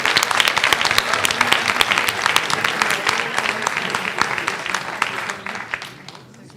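Delegates at a Lutheran church convention assembly clap together, giving dense, crisp applause with sharp individual claps that thins and fades toward the end.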